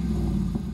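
A Dodge Dakota pickup's engine running right after start-up, a steady, close, low mechanical rumble with a slight rise in revs and no voices.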